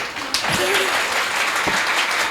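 Dense, steady applause from a crowd at a Jain temple ceremony marking the close of a Bhaktamar Vidhan, with a few sharper claps standing out over the continuous wash of hands.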